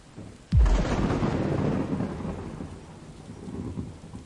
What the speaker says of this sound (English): Thunder rumbled in the distance, rattling the glass in their panes. Heavy raindrops pattered on the ceiling.